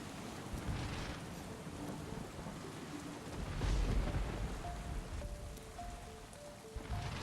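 Continuous storm-like ambience from the idle effect in the game Diablo Immortal: steady rumbling wash of rain and thunder-like noise, swelling slightly midway, with faint tonal blips near the end and no talk.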